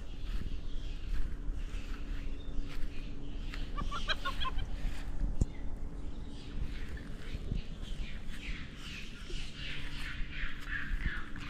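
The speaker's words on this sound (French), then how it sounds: "il y a les dindons." Turkeys calling outdoors on Île Royale, French Guiana, a burst of gobbling clucks around the middle amid steady ambient noise and distant bird calls.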